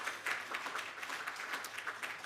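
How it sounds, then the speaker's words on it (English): An audience at a small business conference lunch session claps in a round of applause, a soft, dense patter of many hands, fairly faint and even throughout. "Big round of applause."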